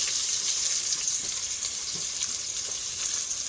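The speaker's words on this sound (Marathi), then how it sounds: "आता आपण त्याच्यामध्ये तेजपत्ता टाकूया आणि 1 बारीक चिरलेला कांदा आहे तोही टाकूया." Bay leaf and finely chopped onion sizzle in hot oil, a steady close crackling hiss with faint stirring, no voices.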